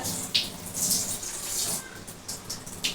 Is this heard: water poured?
yes